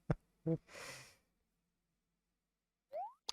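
A person yawning while playing Animal Crossing: New Leaf, a soft breathy drawn-out exhale lasting about half a second after a couple of short voiced sounds, close and quiet, followed by a brief rising game chime.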